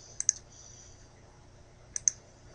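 Two pairs of quick, crisp computer mouse clicks, close and fairly quiet, spaced about two seconds apart over faint room hum, as someone right-clicks to copy an image in Microsoft Word.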